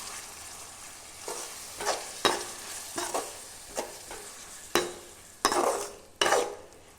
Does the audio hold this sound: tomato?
yes